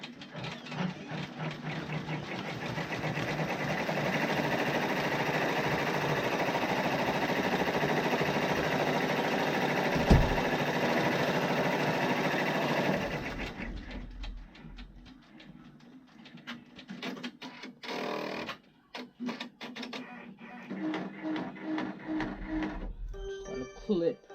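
Embroidery machine running a placement stitch for a bow on a hooded towel, a steady whirring drone for about thirteen seconds that then stops, leaving quieter thread clipping and handling sounds while a person talks.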